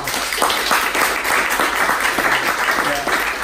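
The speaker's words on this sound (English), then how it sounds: "Let's give a round of applause for Emmanuel." Steady applause from a crowd, dense clapping filling the whole stretch at an even level, with voices mixed in beneath it.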